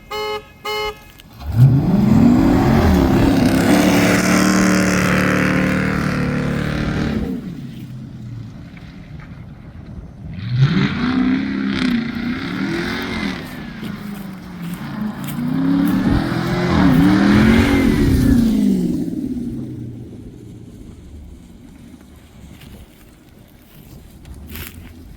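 A Hemi AWD Dodge Charger's engine revs loudly and close at a drag race, rising and falling through three long pulls with brief lulls between them.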